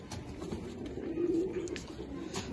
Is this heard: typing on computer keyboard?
no